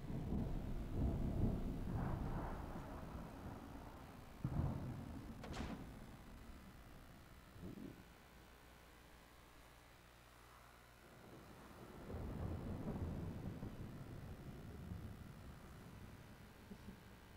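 Thunder rumbles from a storm in the survival game Smalland: Survive the Wilds, a deep, loud roll of noise that swells, fades to a quiet lull, then builds again, with a few sharp knocks partway through.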